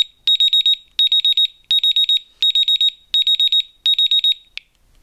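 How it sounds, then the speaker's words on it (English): An earthquake detector alarm blares loudly in close range, a piercing electronic beeping in six rapid bursts of four to five tones each, evenly spaced, followed by a single short final chirp, with no talking. "that siren is a lot louder than the first two sirens"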